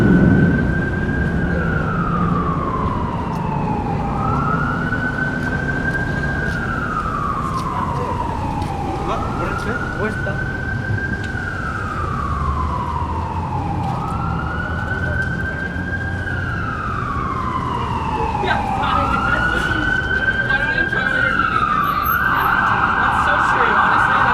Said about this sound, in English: Ambulance is coming this way.